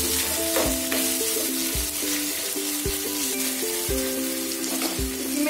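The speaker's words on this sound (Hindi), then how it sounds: "प्याज को हमने अच्छे से भून लिया है तो इसमें डाल देते हैं हरी मिर्च, इसको भी अच्छे से चला लेते हैं इसके साथ।" Onion and green chillies sizzle in a hot pan while a spoon stirs and scrapes repeatedly, with regular knocks and scraping strokes over a constant frying hiss, close and loud.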